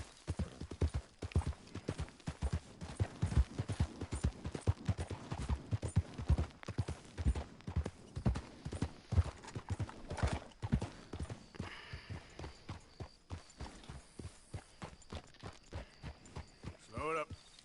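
Horse hooves clip-clopping in the video game Red Dead Redemption 2, a brisk, even run of sharp hoof strikes that fades toward the end. The strikes sit close and fairly loud, with a voice talking at times.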